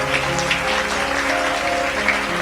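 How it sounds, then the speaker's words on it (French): A church congregation applauding and acclaiming Jesus, a full, steady wash of clapping filling the room, with sustained organ-like tones underneath. "Son ensemble acclame pour Jésus."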